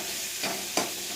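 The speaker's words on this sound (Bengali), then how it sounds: "আলুটা দিয়ে একটু নাড়াচাড়া করতে হবে" Potatoes being stirred into a pan of ghugni curry, with two short scraping strokes of a spoon over a steady low sizzle, close and fairly quiet.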